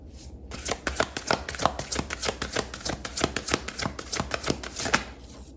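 A deck of tarot cards is shuffled close up in a rapid, continuous riffle of papery flicks and slaps, steady for several seconds.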